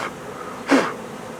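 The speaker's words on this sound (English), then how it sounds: "I saw a ball of bees in the grass" A short burst of honeybee buzzing from a cluster of bees in grass swells up near the microphone for a moment, then fades back into quiet outdoor background.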